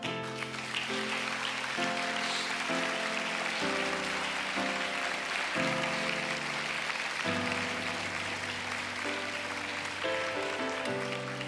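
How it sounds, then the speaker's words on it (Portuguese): Standing church congregation applauding during a sermon, a faint, continuous hiss of clapping buried under loud sustained organ or keyboard chords that change every second or two. "O Cordeiro merece um aplauso, irmão."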